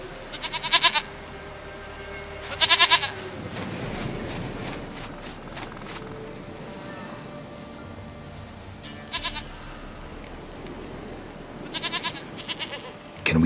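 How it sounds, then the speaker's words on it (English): A goat in The Witcher 3 bleats in several short, loud bursts spaced a few seconds apart over a quiet ambient background, with no talking. "Goat of mine, dearest, sweetest goat."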